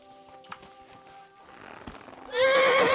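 A horse whinnies loudly and clearly in a video game, a long rising and falling neigh that bursts in near the end after quieter ambient game sounds.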